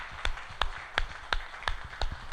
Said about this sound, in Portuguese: Mais uma vez, salva de palmas ao Senhor.